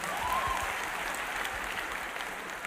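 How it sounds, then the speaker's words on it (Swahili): Audience applause fills a church service, steady and dense clapping from a congregation throughout, fairly loud and without talk over it. "Nimefurahi, mpigieni makofi."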